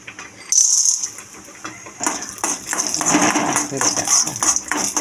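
Peanuts sizzling and rattling in hot ghee in a pan while making papaya payasam, a steady loud frying hiss with scraping and clinking of a spoon against the pan.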